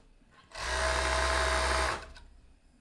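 A sewing machine stitches fabric for a robe in one steady, loud, close burst of about a second and a half, with quiet before and after.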